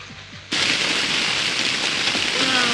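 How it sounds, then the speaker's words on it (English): Hail pours down during a storm, a sudden loud, dense clatter of pellets that starts abruptly after a quiet moment and continues steadily without letup. "A hailstorm is just happening."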